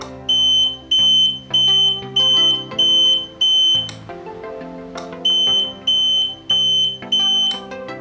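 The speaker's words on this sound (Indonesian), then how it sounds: "ketika melewati sensor ini akan otomatis berbunyi dan hasilnya seperti ini" A homemade laser anti-theft sensor alarm blares in repeated high-pitched bursts over a tinny melodic chime, pausing briefly midway before starting again.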